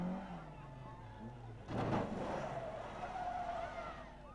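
A rally car at the 1996 Ohakune Rally spins on a corner, a sudden loud burst of skidding tires and engine noise rising midway, with a commentator's voice over it.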